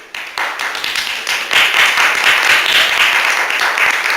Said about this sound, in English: So I want to welcome him on the stage, and please give him an applause.